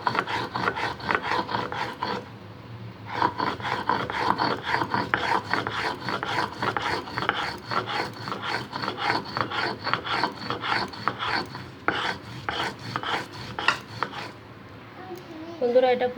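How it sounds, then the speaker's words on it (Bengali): Poppy seeds are ground into a paste by hand with a gritty, rasping scrape repeated in quick, steady back-and-forth strokes, close up, with a brief pause early on and another near the end. "পোস্ত একবার বাটবো।"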